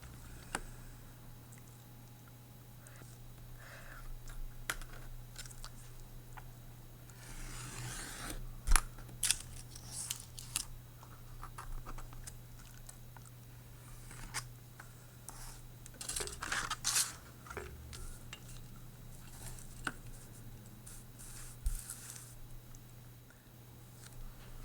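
Scissors snip through card paper in a quiet room over a steady low hum, with clusters of crisp close cuts and small rustles of the paper during printmaking card preparation.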